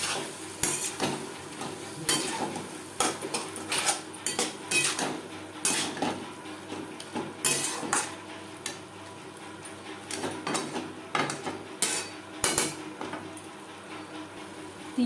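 Chopped potatoes being stirred with spices and a little water in a pan for boal fish roe chochori, a spoon scraping and clinking against the metal in irregular bursts with a faint sizzle underneath, close and steady across the stretch.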